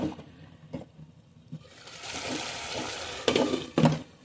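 Chicken with garlic frying in a pan: a wet sizzle swells and holds, broken by a few sharp scraping stirs, close and moderately loud.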